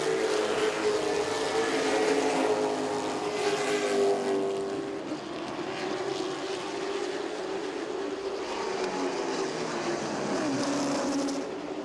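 Late model stock cars race out of turn four at an oval speedway, their engines roaring as a distant, swelling mixed drone that rises, dips slightly midway, then builds again as the pack passes.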